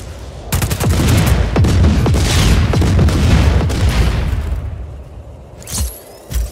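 An underbarrel grenade launcher on the Black Hand service rifle in Just Cause 4 fires amid a loud rolling barrage of booms and rapid gunfire that fades out, followed by two smaller separate bursts.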